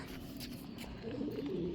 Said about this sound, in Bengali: এই যে এই যে আমার কবুতর সব বিক্রি করে দিমুন